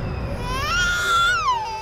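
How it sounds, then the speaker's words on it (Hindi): A baby's cry in a jungle setting, one short rising and falling wail over a low rumbling background, fairly loud with no talk. "बच्चे की रोने की आवाज?"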